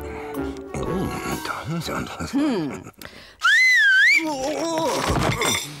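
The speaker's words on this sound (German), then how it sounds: "Dann pfeifst du einfach." A bright, clear whistled tune rises and wavers for about a second, set between stretches of talking and laughter.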